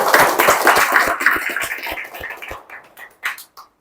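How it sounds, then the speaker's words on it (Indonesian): Classmates in a classroom clap for their peers in a short burst of applause that thins out, ending with a few scattered claps. "Berikan tepuk tangan"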